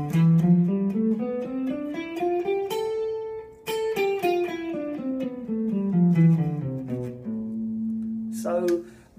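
A guitar plays the natural minor scale, single plucked notes stepping steadily up and then back down at a moderate pace, close and clear, ending on a held low note with no talking.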